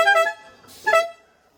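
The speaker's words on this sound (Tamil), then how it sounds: "ஹாரன் எப்படி இருக்குன்னு காமிக்கிறேன்." Modified tractor horn honking in two loud, tonal blasts with a short gap between them, the second cut shorter and fading out.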